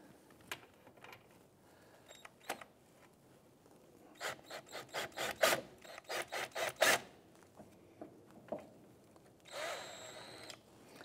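A small scissor jack is cranked open against a block of wood under a 1997-2006 Jeep Wrangler axle, giving a close series of short, rhythmic ratcheting and grinding bursts, with scattered clicks before and a rougher scrape at the end.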